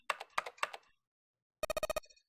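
Computer keyboard keys clack in Zero Escape: 9 Hours, 9 Persons, 9 Doors. Three crisp, spaced keystrokes are followed after a pause by a rapid burst of about six quick taps, clean and close with no talking.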